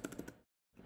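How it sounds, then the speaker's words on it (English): A few quick keystrokes on a computer keyboard, close and soft, a short burst of three or four clicks, then silence and another light tap. "So I'm going to just type out then that I want to do"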